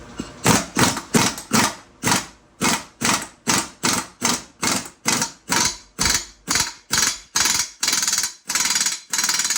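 An air-powered impact tool drives a homemade socket during a Berkeley jet pump rebuild, hammering out about eighteen loud, evenly spaced mechanical bursts close by, each separated by a brief pause, with no talking.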